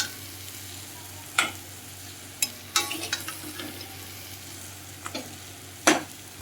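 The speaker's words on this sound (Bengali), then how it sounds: "মালাইকারি করছি। হুম, ভেজে নিচ্ছি।" Fish for malai curry frying in a home kitchen pan, a soft steady sizzle broken by several sharp scraping and stirring clatters of a utensil against the pan.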